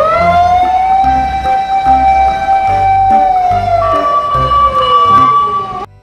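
Toy fire truck siren wailing loudly and close, a sustained electronic tone with a slow pitch sweep and a small drop midway, cutting off abruptly near the end.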